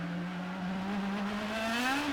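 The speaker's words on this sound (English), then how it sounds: "And listen to the throttle here." Danica Patrick's GoDaddy IndyCar works the throttle during practice on the streets of St. Petersburg, a steady high engine whine that climbs in pitch as it accelerates, heard at a moderate distance.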